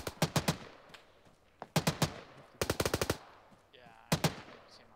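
Automatic gunfire in the Arma 3 military video game, rapid bursts of several shots each at moderate distance, repeated in quick succession with a short lull before a final burst.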